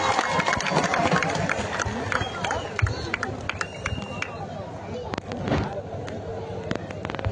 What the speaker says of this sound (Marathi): जरा टाळ्या करावी. टाळ्या टाळ्या टाळ्या टाळ्या.